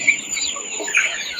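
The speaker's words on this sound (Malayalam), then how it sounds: "ഇത് നാടൻ കോഴി കുഞ്ഞുങ്ങളുണ്ട്." Native hen chicks cheep close by in quick, high, overlapping peeps scattered through a short moment, with no talk over them.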